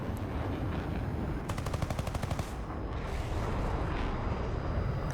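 Hispano cannons fire from a Canberra B Mk 6 in an air combat video game, loud continuous gunfire bursts that rattle rapidly over steady engine roar.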